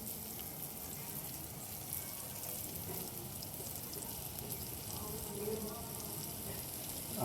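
Crumbled paneer simmers and fries in a gravy over a wood-fired chulha stove, a soft continuous sizzle with light bubbling, fairly faint and even throughout.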